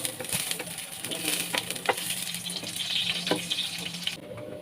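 Sliced onions sizzle and fry in a pan for Bengali fried onion, with a steady crackling hiss and occasional scraping stirs throughout, no talking.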